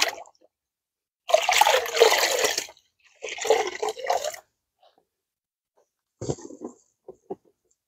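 Water splashes and rinses over a car wash mitt during a hand car wash with acid descaling shampoo, coming in a few separate bursts of trickling and sloshing with quiet gaps between them.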